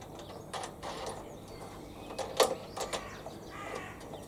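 Metal parts of a Hyundai HYM480SPR self-propelled roller lawnmower's handle clink and ratchet as a nut is started on a bolt, with a few short scattered clicks and scrapes, faint and close, with no talking.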